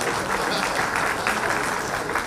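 An audience at a government event in Jharkhand claps loudly and continuously, a dense, even roar of applause filling the whole stretch without a break.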